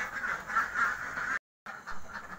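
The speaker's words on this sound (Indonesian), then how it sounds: "Nah, ini bebek-bebek kami yang saya ceritakan tadi sebanyak" A flock of about 500 farm ducks quacks steadily at a moderate distance, with a dense overlapping chatter of calls that cuts out for a moment and then resumes.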